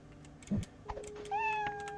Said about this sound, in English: I heard the kitty.